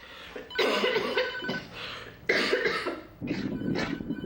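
Holly coughs hard to clear cell debris from her throat, her cilia damaged during an infection. There are three forceful, close bursts, the last two shorter and sharper, with no speech.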